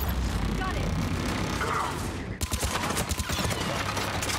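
Automated turret in Mass Effect 3 firing in a rapid, dense burst of shots at close range, loud and continuous, with a sharper run of cracks toward the end.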